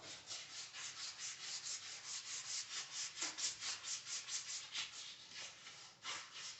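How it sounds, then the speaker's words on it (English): Emery cloth rubs back and forth over the front axle of a 1985 BMW 633 CSI, a close, quiet rhythmic scraping with even strokes at roughly two per second, heard alone. "emery cloth, and just clean that off"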